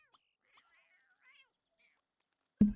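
A single loud, close cat meow from a pregnant cat in The Sims 3 game bursts out at the end, after a stretch of faint, scattered background sounds.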